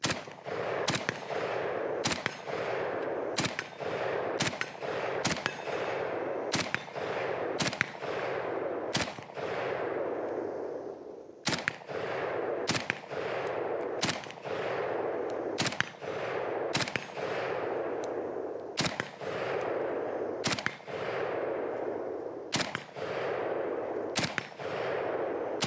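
Galil ACE Gen 2 rifle fires a long string of evenly spaced single shots, about one per second, each a sharp crack with a short ringing decay, loud and close with no talk over it.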